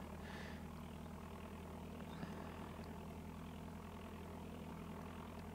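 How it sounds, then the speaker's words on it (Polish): A propeller aircraft engine runs in Microsoft Flight Simulator 5.1, giving a faint, even, low drone that holds steady throughout. "I silnik wystartował."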